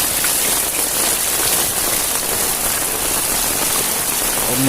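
Heavy night rain pours in Ratnagiri, a dense, unbroken hiss of drops on surfaces that stays loud and even from start to finish.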